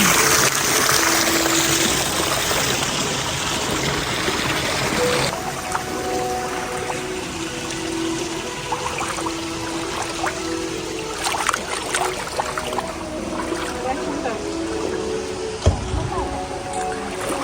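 Water pours steadily into a pool that is still filling at a winter resort in Kosino, Zakarpattia, a continuous close rushing trickle, with a voice speaking over it.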